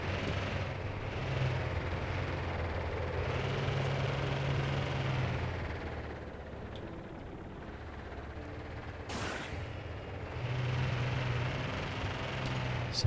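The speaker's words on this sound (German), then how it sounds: "Ganz schön laut der Motor." The engine of the Roamer exo-vehicle in No Man's Sky NEXT, a steady, loud rumbling drone that swells and eases slightly while driving, with no talk over it.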